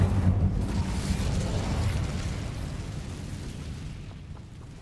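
Incendio fire spell cast in Hogwarts Legacy, a loud whooshing burst of flame with a low rumbling roar that trails off over several seconds, no voices.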